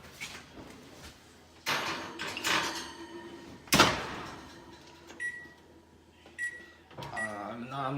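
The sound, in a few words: oven door opening and closing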